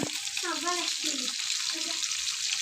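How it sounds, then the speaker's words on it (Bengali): Steady hiss of bata fish frying in hot oil runs throughout, with a voice talking over the sizzle. "এদিকে বাটা মাছটাকে ভাজতে শুরু করেছে"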